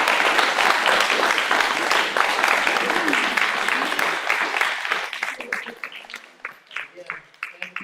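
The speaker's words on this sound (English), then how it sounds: "How about a round of applause?" Audience applauding at a town council and school board forum in Bucksport: dense, steady clapping from a crowd that holds loud for about five seconds, then thins into scattered, fading claps.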